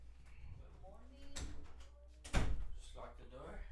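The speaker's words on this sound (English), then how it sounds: "Just lock the door." A door is shut with a solid thump, followed by a louder knock or clunk of the lock, amid a person's voice in an echoing space.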